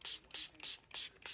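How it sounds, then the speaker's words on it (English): Water sprayed from a spray bottle onto a chalk design on a board: five quick, faint hissing spritzes in an even rhythm, close to the mic. "you just take some water and you spray it right onto"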